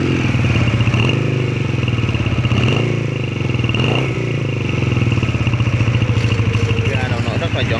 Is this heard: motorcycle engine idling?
yes